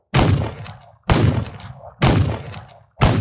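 Four loud, sharp gunshots from a pistol or rifle in the video game This Land is My Land, spaced about a second apart, each with a sudden crack and a short decaying tail.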